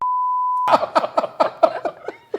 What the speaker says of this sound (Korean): 삐소리 처리돼요?